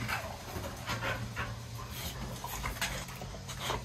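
Several dogs pant and whimper softly at close range, a faint, continuous breathy patter with occasional higher whines and no talking.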